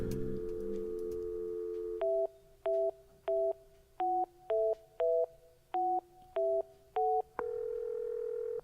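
Payphone keypad tones in a video game: a steady dial tone, then a run of about ten short, evenly spaced dialing beeps, ending on a longer sustained tone, clear and close with no talk over it.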